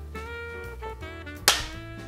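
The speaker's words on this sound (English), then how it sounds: "Je fais le clap." A film clapperboard snaps shut once with a sharp, loud clack partway through, set against a quiet room hum and a soft sustained tone.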